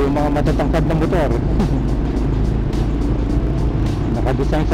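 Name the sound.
tall vehicles driving by on a flooded road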